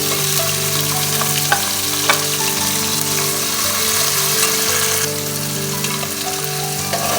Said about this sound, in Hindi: प्याज़ों को हम इसमें फ्राई करेंगे गोल्डन ब्राउन होने तक।